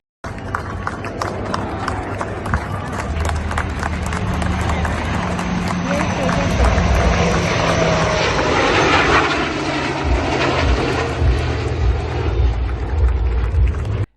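A Tejas MK1A light combat fighter jet on a test flight gives a loud, sustained engine roar that swells toward the middle and holds, with voices heard over it.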